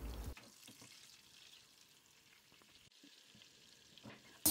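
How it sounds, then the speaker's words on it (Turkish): Butter melting in olive oil in a pan for baklava, giving a soft, steady sizzle with faint crackles that holds evenly throughout, quiet and close, with no talking. "Baklavamız için zeytinyağı, 1 yemek kaşığı tereyağını eritmeye bırakıyorum."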